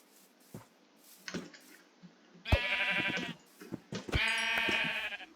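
Sheep bleat loudly nearby in a modded survival video game, two long wavering calls with a few short clicks and thumps in between.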